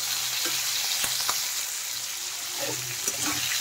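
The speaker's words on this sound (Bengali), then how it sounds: "আলুগুলো ভাজা হতে থাক" Potatoes frying in oil in a pan with cauliflower stalks for a Bengali fish curry, giving a continuous, even sizzle with faint clinks from stirring.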